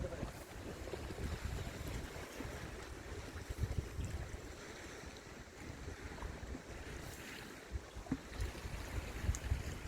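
Wind blows hard across open sea on an autumn black porgy fishing trip off Namhae, a continuous roaring gust noise buffeting the microphone with faint water wash beneath.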